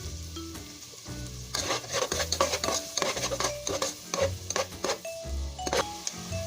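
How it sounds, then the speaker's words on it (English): Onions sauté in butter in a pot, a soft sizzle under repeated close scraping and stirring of a utensil against the pot, with occasional clinks and no talking. "add our onions in to saute"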